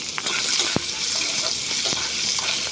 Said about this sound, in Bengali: আমি কাঁঠালের আটিগুলোও সুন্দর করে ভেজে নিব।